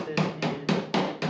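Five sharp hammer taps seating a metal cowl panel on a 1953 GMC truck, evenly spaced, close and loud with a ringing metallic edge.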